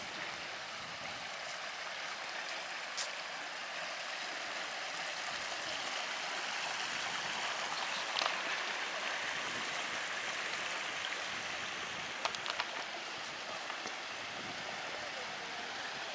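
A mountain stream runs beside a forest trail in the Eastern Mecsek hills, its flowing water giving a steady, broad rushing wash with a few faint clicks and knocks on top.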